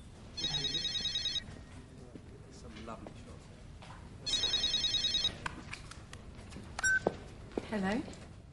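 A mobile phone rings in a British TV drama scene. Two distinct bursts of a bright, warbling ringtone, each about a second long, stand out from a quiet room, with people talking and moving between and after the rings.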